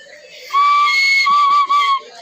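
A flute being blown by an untrained player produces a steady, clear whistling tone that starts abruptly, holds for about a second and a half with a brief dip near the end, then resumes, close and fairly loud.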